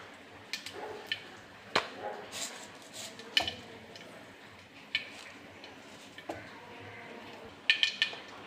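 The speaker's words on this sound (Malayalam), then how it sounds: "അപ്പോൾ കടുക് പൊട്ടി" Mustard seeds splutter in hot oil while tempering a buttermilk curry, sounding like quiet, irregular sharp pops and ticks scattered over several seconds against faint background noise, with occasional utensil clinks.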